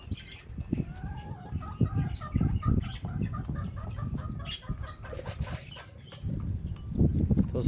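Chickens and roosters cluck and chatter close by while feeding, a busy overlapping flock with scattered pecking and rustling throughout.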